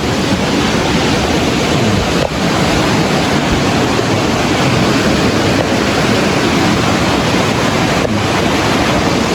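A strongly flowing waterfall near a lodge in Sapan village: a dense, steady roar of rushing water, loud and close, constant for the whole stretch with no voices.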